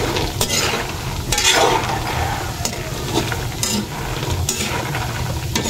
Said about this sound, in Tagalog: at ating pong halon hanggang maluto na po siya